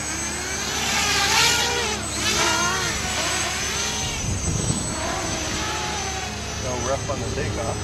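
A homemade helicopter built from a Chinese food takeout box lifts off with a steady, close motor and propeller whir that swells and wavers, with people talking over it.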